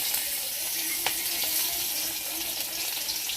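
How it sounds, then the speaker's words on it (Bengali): Chopped onions frying in hot oil in a pan, a continuous soft hiss and crackle with one brief sharper pop, fairly quiet and steady with no talking. "এই তেলে দিয়ে দেব পেঁয়াজ কুচি"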